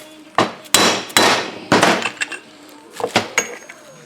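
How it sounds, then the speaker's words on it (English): A rubber hammer knocks a chainsaw part into place on an MS 660-style saw build, in a quick irregular series of about nine close, solid taps, with short pauses between bursts. "I'm going to give it just the simplest of taps with a rubber hammer"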